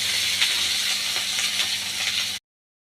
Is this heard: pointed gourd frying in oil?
yes